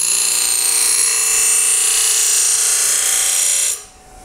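A power grinder grinds the bevel of a bushcraft knife blade on a pedestal, a loud, steady high-pitched grinding whine running continuously before cutting off abruptly near the end.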